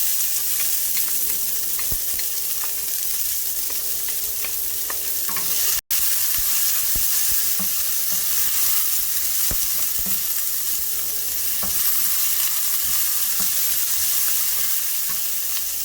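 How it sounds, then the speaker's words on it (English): Mustard seeds and onion fry in hot oil for a moringa leaf stir-fry, giving a steady, close sizzle with stirring and scattered pops. One sharp click lands midway. "Once the mustard leaves start splattering, you add in the onion."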